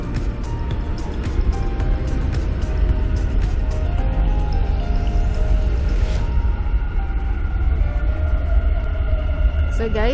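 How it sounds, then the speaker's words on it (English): A Dubai train rumbles steadily as it arrives at the station, with rattling wheels, a rising tonal whine and a continuous low roar close by. "So guys, the train is coming."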